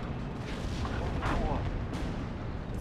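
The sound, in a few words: artillery fire in the video game Steel Division 2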